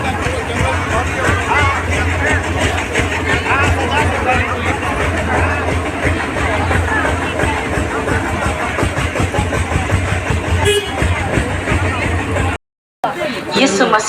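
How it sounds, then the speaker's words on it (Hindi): Dense crowd babble and engine rumble from vehicles packed at a Christian festival fair near Dumargadi, a steady loud wash of voices and idling motors throughout, cut by a brief dropout near the end. "देखने वालों गाड़ियों की भीड़ इस प्रकार लगी हुई है।"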